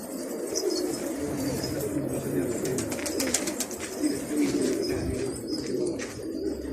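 Pigeons coo softly and repeatedly in a bird loft, with some chirping and faint wing flutter over a steady background hum.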